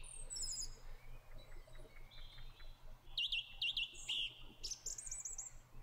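Birds chirp in the video game The House in Fata Morgana, bright twittering calls in short bursts over a soft steady ambient hum, repeating quickly in the second half.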